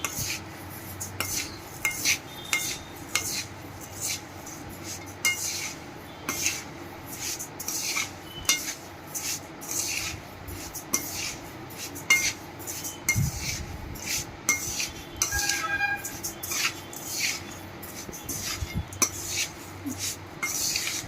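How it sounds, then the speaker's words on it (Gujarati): A spoon stirs sesame mukhwas, a Gujarati mouth freshener, in a bowl, making repeated soft scraping and clinking taps against the bowl, quiet and close with no talk. "આને મિક્સ કરી દેશું મુખવાસમાં."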